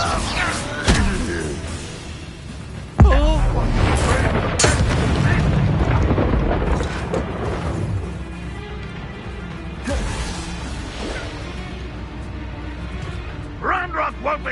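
Incendio fire spell cast in Hogwarts Legacy: a sharp, loud whoosh bursts out and settles into a sustained roaring rush, amid other impacts and clattering combat effects.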